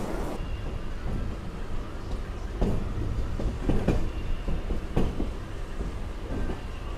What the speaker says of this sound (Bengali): একদম পারফেক্ট টাইমে কিন্তু ট্রেন ছেড়ে দিয়েছে